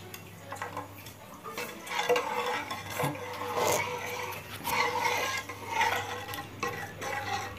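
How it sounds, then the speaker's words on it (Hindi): A spoon scrapes and clinks steadily around a cooking pot while masala is stirred over heat, with irregular metallic taps and faint sizzling and no talking. "अब मैं इसे प्रॉपरली तरीके से चलाती रहूँगी जब तक इसमें उबाल ना आ जाए।"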